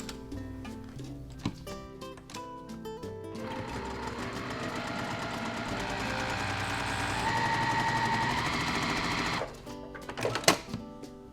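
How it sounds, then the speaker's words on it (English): A sewing machine runs steadily while stitching a quilt seam at a 2.0 stitch length with a quarter-inch allowance, a continuous mechanical whir held for several seconds before stopping, followed by a few light clicks. "You're going to start stitching from this edge to this edge."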